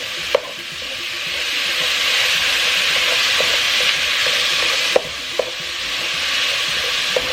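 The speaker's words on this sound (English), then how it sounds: "Now that I have my meat in the pot, I'm going to add the salt. And I'm going to cook it until it's brown." Meat browns in a salted pot with a steady, close sizzle and hiss, broken by a few sharp clinks and stirring knocks.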